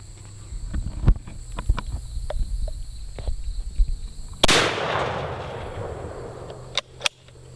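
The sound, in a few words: Umarex Speedbelt .50 cal air rifle shot through plastic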